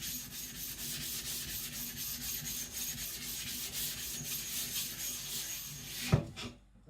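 Custom nakiri knife blade rubbed back and forth on a sharpening stone to roughen the edge, a steady rhythmic gritty scraping close by, ending with a brief knock.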